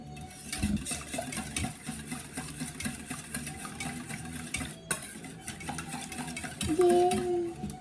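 Sourdough almond caramel biscotti dough is mixed in a bowl in a home kitchen, with continuous stirring, scraping and clinking of a utensil against the bowl and a brief tonal whir near the end.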